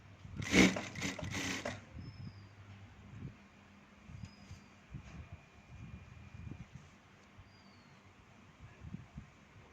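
A sewing machine stitching fabric for a donut-style hair tie: a short, loud burst of rapid mechanical whirring at the start, then quiet handling and faint rustling of cloth.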